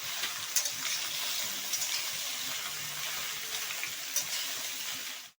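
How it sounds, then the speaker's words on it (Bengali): Colocasia stolons fry in a pan with a steady, close sizzle and occasional scraping stirs, a soft continuous crackle with no talk. "এবার কচুরলতিগুলো এইভাবে ভাজতে হবে নেড়ে ছেড়ে।"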